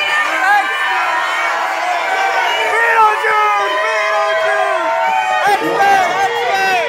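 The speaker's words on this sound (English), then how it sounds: "All those applause for Beetlejuice just went south." A Halloween costume-party crowd cheers and whoops for someone dressed as Beetlejuice, with loud overlapping shouts and rising voices close by and people talking throughout.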